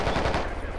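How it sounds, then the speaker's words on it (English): Sustained automatic assault rifle fire in the tactical shooter Squad Ops, a dense continuous rattle of rapid shots at steady loudness through the whole short burst. "More AR fire from the other side of the"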